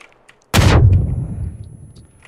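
A single grenade blast booms inside a building in a video game, a sharp loud burst that decays into a rumbling tail, with faint background clicks before it.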